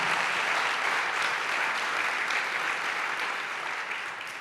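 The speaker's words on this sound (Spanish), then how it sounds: "Si le va a aplaudir, apláudale con fuerza" A church congregation gives loud, dense, sustained applause during a sermon, with a full wash of clapping that holds steady and then begins to fade slightly at the end.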